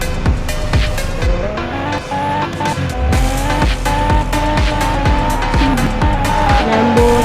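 A manual car in the Car Parking Multiplayer game revs loudly and steadily while its tires squeal repeatedly, a continuous engine roar with rhythmic skids and no talking.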